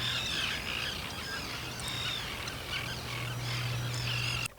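Wild birds call by the Vistula river, with scattered chirps and calls over a steady outdoor hiss and a low constant hum, moderately loud, with no talk.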